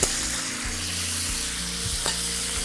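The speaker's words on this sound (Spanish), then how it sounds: "Sofreímos las vainas y reservamos el garrofó." Green beans (flat and red runner varieties) sizzling steadily in hot oil in a paella pan over a wood or gas fire, a continuous close frying hiss with a brief stir scrape near the end.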